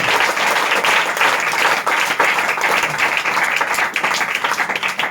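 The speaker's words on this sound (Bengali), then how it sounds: "জোরদার তালি করে দাও, জোরদার তালি" A church congregation claps loudly and continuously, a dense, sustained wall of applause.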